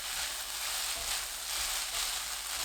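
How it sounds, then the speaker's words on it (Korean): Seaweed stems with mirin stir-fry in a pan over medium-low heat, giving a continuous bright sizzle with soft swells as the contents are stirred, close and steady without talk. "미림 2큰술 넣고 중약불로 1분 볶아주세요"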